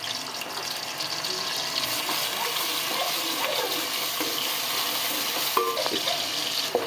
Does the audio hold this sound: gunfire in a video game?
no